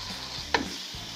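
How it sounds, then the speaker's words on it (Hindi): Tomatoes, green peas and carrots fry together in a pan under a soft continuous sizzle, with one brief utensil scrape or clink partway through. "मटर और गाजर शामिल करने के बाद सारी सब्जियों को अच्छी तरह से फ्राई करें।"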